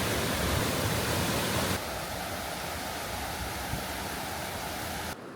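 Galleny Force waterfall in the Lake District rushes with a steady, broadband roar that fills the scene, close and constant, softening slightly partway through with no speech over it.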